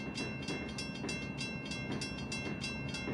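A Sacramento Northern steeplecab electric locomotive in Train Simulator runs along the track, with a steady rolling rumble and regular rhythmic clicks from the wheels, loud and continuous with no talking.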